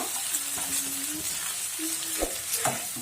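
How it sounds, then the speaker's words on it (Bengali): Onions and chicken gizzards stirred in a hot pan, a steady close sizzle of frying with scraping spoon strokes across the pan throughout. "সেই পেঁয়াজটাও দিয়ে দিব ভালো করে নাড়াচাড়া করে নিব"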